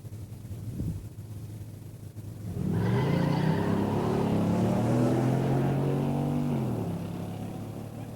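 Two muscle cars, a 1970 Buick Grand Sport and a Camaro, roar loudly at a pure stock drag race start line after a quiet opening, their engines holding a heavy, rising drone for several seconds.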